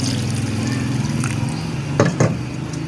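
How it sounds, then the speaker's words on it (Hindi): A glass of water poured into beef karahi gosht cooking in its own released juices, a close liquid trickle and splash with a couple of brief louder gushes near the end, no talking. "1 गिलास हम इसमें डालेंगे मज़ीद पानी"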